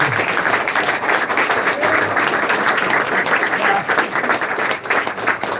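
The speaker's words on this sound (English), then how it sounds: "Give him a round of applause" Steady, loud applause from an audience, continuous dense clapping filling the whole stretch.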